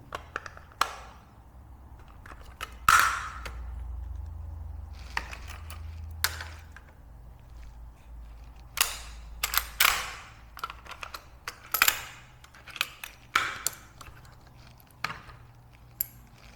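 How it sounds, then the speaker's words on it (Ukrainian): An AKS-U rifle being opened for inspection produces a series of sharp metallic clicks and clacks, irregular and close, with quiet pauses between them and no talk. "Зараз відкрию, подивимось, що в нього всередині."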